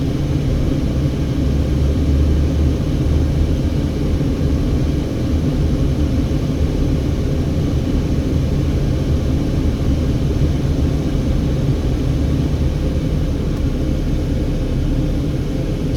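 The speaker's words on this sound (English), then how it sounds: "We're driving over the Hoover Dam." A car drives across the Hoover Dam road near Las Vegas behind another vehicle, a steady loud low engine and road rumble with wind noise that holds without a break, with no talk.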